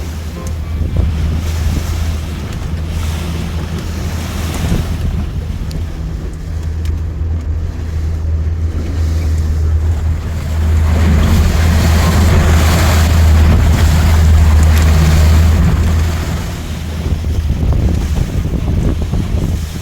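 Waves and big rollers wash around a shanty boat out on Lake Superior, with a steady low engine drone and gusting wind buffeting the microphone. The surge grows louder midway through.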